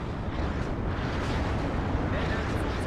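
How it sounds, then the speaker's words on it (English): M110 artillery shells landing in the WARNO strategy game, a dense, continuous rumble of explosions and heavy blasts that stays loud and roaring throughout without a break. "you can see my M110s currently landing artillery onto the Strela 10M"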